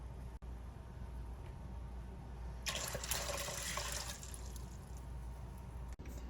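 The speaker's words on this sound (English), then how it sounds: "Now we're going to just fill this with water." A cooking pot is filled from a tap with about six cups of water, a steady rush of running water lasting roughly a second and a half, close and moderately loud, with no talking.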